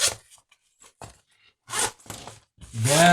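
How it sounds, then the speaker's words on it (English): Short bursts of a zipper being drawn along a handmade small shoulder bag, heard close up in quick separate pulls with quiet gaps between them, ending in a longer pull as a voice begins. "let's try zipping it"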